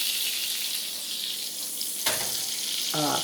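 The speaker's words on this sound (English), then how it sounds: "Right now, I'm sauteing in a frying pan right here." Steady loud sizzling of two Beyond Burger plant-based patties frying in a pan, close up, with a brief clatter and stirring sounds partway through.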